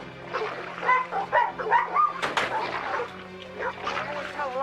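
Several dogs bark and yip from somewhere out back, a run of short sharp barks with a louder burst midway, heard moderately close alongside some low background sounds.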